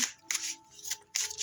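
Tarot cards shuffled by hand, close up, in three quick papery riffling bursts with short pauses between them.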